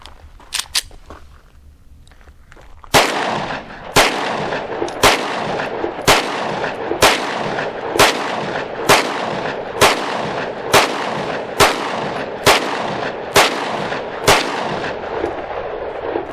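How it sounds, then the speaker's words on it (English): A Taurus GX2 9mm pistol firing Winchester rounds outdoors: a string of thirteen loud, close shots at a steady pace of about one per second, each with a short ringing tail, after a few faint clicks. "I'm going to try 13 rounds of Winchester"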